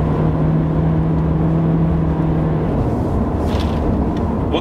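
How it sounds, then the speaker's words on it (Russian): A Nissan Sentra with a CVT under full throttle holds a steady, droning engine whine inside the cabin. The pitch stays nearly constant before shifting slightly, over road and tyre rumble, with no talk. "Что, попробуем ускориться, газ в пол."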